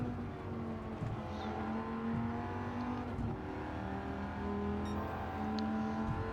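A Dodge Viper GTS in Gran Turismo 7 roars steadily on the Tokyo Expressway, its engine note rising and falling through gear changes as it powers out of a corner, loud and continuous.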